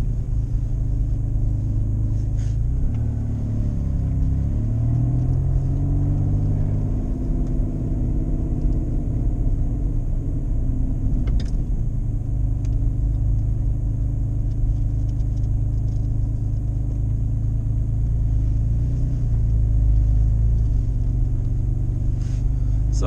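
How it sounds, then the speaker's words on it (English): A car drives through snowy streets in Buffalo, New York, with a continuous low engine and road rumble heard from inside the cabin, a few faint clicks and shifts in tone throughout. "I'm just driving around."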